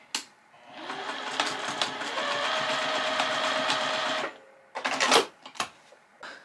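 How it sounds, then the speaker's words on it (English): A sewing machine stitches a quilt seam in one steady whirring run of about three seconds, then gives a few short bursts and clicks as it stops. "I'm gonna stitch that down real quick"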